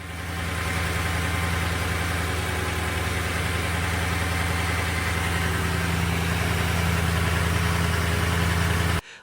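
A Toyota 5.7-liter V8 running on 0W-20 oil idles steadily and loudly for several seconds, a dense even drone with a faint valvetrain tick, heard up close before cutting off abruptly.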